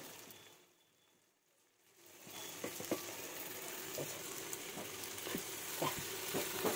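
Leaf-wrapped paturi parcels fry in a pan over low heat. After about two seconds of near silence, a steady, close sizzle starts, with small crackles and pops scattered through it.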